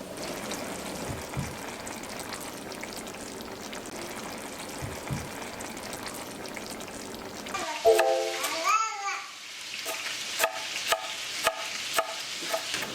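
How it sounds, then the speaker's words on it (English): Creamy Dijon chicken sauce simmers in a single pan with a soft, steady bubbling and stirring texture, then a few sharper clinks and scrapes of a utensil toward the end; no voices. "We're gonna continue to let the sauce simmer and thicken to your liking."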